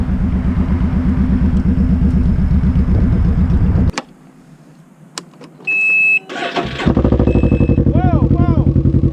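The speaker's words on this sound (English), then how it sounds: "Got a hole in your exhaust." Several Can-Am Ryker three-wheelers with a holed exhaust idle and rumble loudly and raggedly up close, then the engine noise cuts out briefly and returns with beeps and a voice talking over it.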